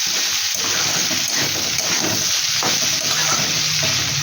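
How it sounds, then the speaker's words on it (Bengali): Potatoes frying in a pan in a home kitchen, with a steady, loud, continuous sizzle and crackle and occasional stirring scrapes throughout, and no talking. "এই যে এখানে ভাজছি আলু"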